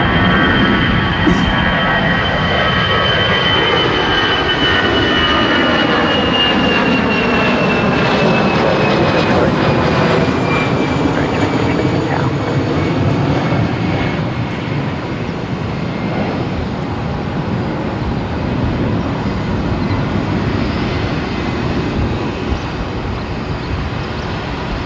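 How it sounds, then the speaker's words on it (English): British Airways Boeing 777 passes close by, a loud sustained jet roar with sweeping tones that fall in pitch as it goes by, dominating throughout. "There's the 777 that I've been waiting for. The BA Speedbird."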